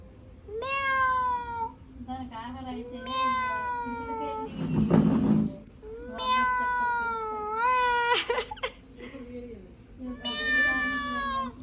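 A mother cat meows repeatedly at close range, drawn-out pleading calls in a regular series with brief pauses between them and a rustling burst in the middle.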